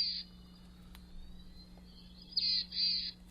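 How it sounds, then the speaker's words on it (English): A small songbird with a brown cap, nape and back and dark gray wings sings in short, high, bright bursts, one at the start and two close together near the end, over a low steady hum. "Can you hear that bird?"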